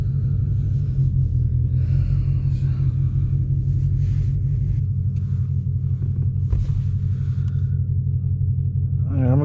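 A 2020 Ford Mustang Shelby GT500 engine rumbles steadily at idle with a deep, constant exhaust drone, close and loud, with faint voices in the background.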